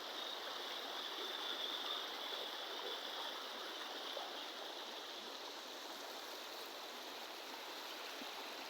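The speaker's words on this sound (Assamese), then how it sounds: "আমাৰ ভেলুৱাবাও গাঁৱৰ ৰাস্তাৰ ওপৰ ফালে পানী গৈ আছে" Floodwater rushes over a village road, a steady, faint broadband gush like a stream, continuous and unchanging with no voices.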